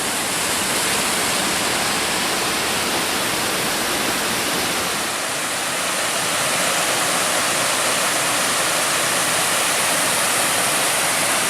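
Water pours down a small natural rock slide on a forest trail, making a loud, continuous rushing hiss, a close, steady wash of cascading water with no voices.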